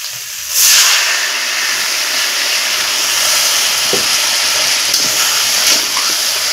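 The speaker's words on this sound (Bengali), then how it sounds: "এখন আমি দিয়ে দেবো কিছুটা জল।" Water hits a hot pan of spiced pumpkin and shrimp with a sudden loud burst of hissing sizzle, then settles into a sustained steady sizzle and bubbling, close up with no speech.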